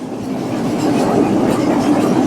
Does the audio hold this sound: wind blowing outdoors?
no